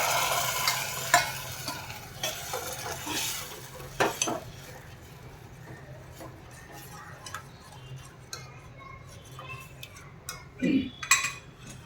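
Reserved dal cooking water is stirred into thick dal in a metal pot, with scraping and clinking of a spoon, soft sizzling, and occasional sharper taps.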